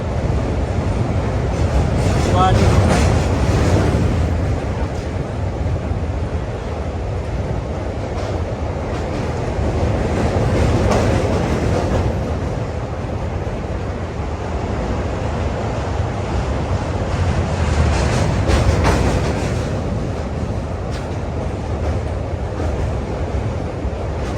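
A passenger train leaving Rangapara North rumbles along a bridge over the Brahmaputra river, its loud, continuous low roar heard from inside the coach with rhythmic clatter swelling and easing throughout; no talking.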